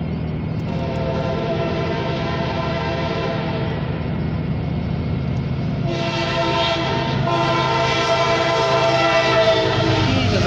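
A CSX tanker train rolls past in Erie, Pennsylvania, with a loud, steady, multi-tone horn blast that shifts pitch midway, over the continuous rumble of the train, near and prominent.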